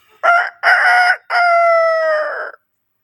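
A person mimics a rooster's crow in three loud, close bursts, two short clipped calls followed by a long drawn-out final note that fades away, with no other sounds.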